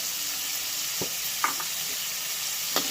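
Kashmiri chillies and cashews fry in a pan with a steady close sizzle and a few soft clicks from the pan.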